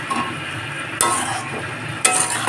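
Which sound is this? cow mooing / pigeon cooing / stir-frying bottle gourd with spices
stir-frying bottle gourd with spices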